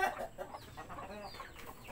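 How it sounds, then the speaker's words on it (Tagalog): A rooster in a divided chicken coop, likely a Mahogany Rhode Island Red, gives clucking and throaty calls close by over a busy background of other fowl noise. "Matapang din pala itong isang isang tandang."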